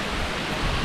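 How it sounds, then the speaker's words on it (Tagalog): Ubod Falls on Mt. Damas, a loud, continuous rush of falling water filling the whole short moment, with no voices over it. "Ubud Falls."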